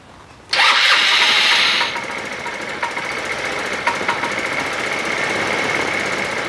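A Chinese GY6 scooter engine with a fuel-related fault cranks briefly and catches, a loud burst of starting that settles into a steady, slightly rough running idle close by, no talk.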